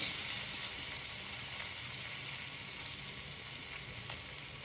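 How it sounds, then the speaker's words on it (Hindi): Green chillies are added to hot oil with turmeric for a stuffed aloo paratha filling, giving a loud, continuous close-up sizzle and crackling hiss with no voices. "अब हम इसमें डालेंगे हरी मिर्च।"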